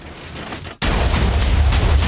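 An orbital strike cannon in Minecraft, Mk 6.1 by Cubic Metre, fires in a video game. A moderate roar cuts off abruptly, then a very loud, sustained blast of rumbling explosions follows without talk.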